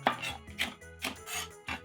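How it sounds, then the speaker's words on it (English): A knife chops quickly on a cutting board while peppers are julienned into thin strips, a few close, crisp cuts in a short burst. "Very thinly julienne them, just like this."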